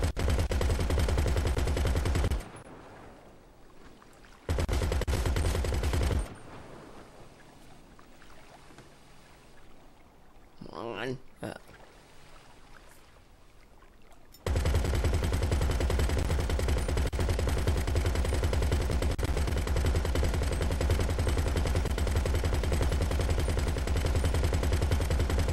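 Gunfire from the Tula seacopter in GTA Online, loud sustained bursts of rapid shots filling two early stretches and then a long unbroken volley from the midpoint to the end, with a quieter engine-like drone between.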